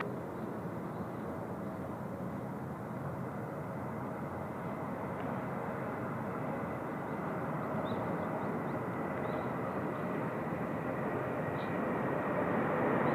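Faded-looking Boeing 737 at Seoul Incheon Airport, a steady broadband jet engine roar that holds throughout and swells slightly toward the end, heard from a distance with no talk.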